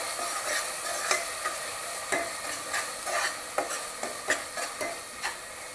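Ground masala paste being sautéed in oil, a steady close sizzle with a run of quick spoon scrapes and light clinks against the pan, no voices.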